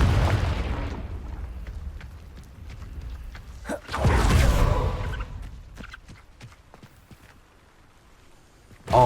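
Confringo fire spell explodes in the Hogwarts Legacy video game: a heavy roaring blast opens, a second big burst hits midway, with scattered crackles and pops between and a sharp hit at the end.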